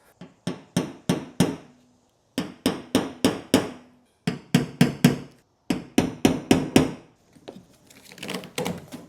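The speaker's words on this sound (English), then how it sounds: "I'm gonna grab the drill bit that I'm gonna use and just do a little punch in there" Sharp metallic taps of a drill bit punching center marks, in quick bursts of four or five, repeated in several rounds, close and loud, with a faint scraping at the end.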